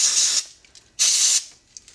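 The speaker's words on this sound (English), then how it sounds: "you want to get a rag and you want to go ahead and spray a little bit" Throttle body cleaner sprayed from an aerosol can onto a rag during a Lexus IS F throttle body cleaning, two sharp hissing bursts of about half a second each, close and loud, separated by a short pause with faint clicks.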